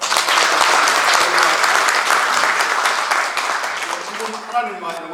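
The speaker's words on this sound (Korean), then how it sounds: "하나님께 영광 박수 올려드릴까요?" A church congregation claps in loud, dense applause at a book launch service, the clapping tapering off toward the end as a voice begins to speak.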